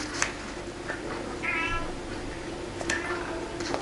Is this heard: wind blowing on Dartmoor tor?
no